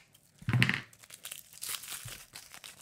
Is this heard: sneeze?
no